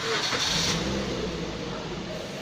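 A 2008 Suzuki Neo Baleno car with about 150,000 km engine starting and settling into a steady idle, heard close and fairly loud, with a short cranking rise at the start.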